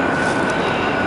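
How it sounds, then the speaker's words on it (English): A train passing on the far side of a river, heard as a steady, loud, unbroken rumbling roar with a sustained tonal whine, no voices. "there's a train on the other side of the river. It's loud as shit right now"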